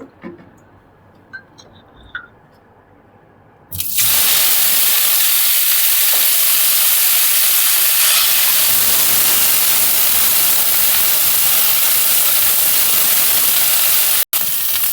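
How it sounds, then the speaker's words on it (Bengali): Quiet room sounds, then a sudden loud, steady hiss of cauliflower frying in hot oil that continues evenly, with a brief cut near the end. "এবার আমি ফুলকপিগুলো ভেজে নেব"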